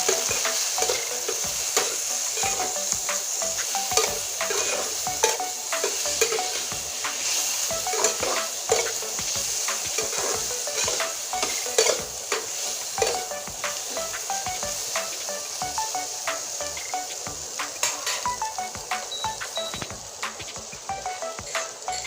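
Coriander and chili powder fry in a pan for a Bengali pointed gourd dish while a spoon stirs, making dense close scraping and clatter over a continuous sizzle for a long stretch.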